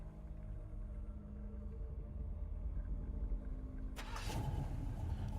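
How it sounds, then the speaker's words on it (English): A vehicle's ignition cranks and catches near the end, rising suddenly over a steady low rumble of engine and background noise; any key jingle is not distinct. "Then you hear some keys jingle and the sound of an ignition starting."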